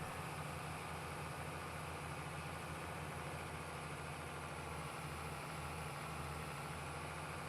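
Old-iron tractors in Farming Simulator 22 work with a load of hay, their engines holding a continuous deep, throbbing idle-like rumble with steady vibration throughout.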